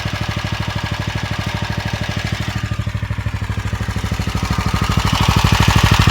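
A small engine, just repaired at its rectifier/regulator, runs close and loud with a fast even chugging pulse that holds steady and swells slightly louder toward the end.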